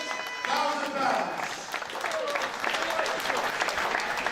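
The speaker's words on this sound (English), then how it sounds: "could we please have one last round of applause for all 9 players" The crowd at a poker tournament final table applauds the nine players, with clapping under background talk and some murmuring voices.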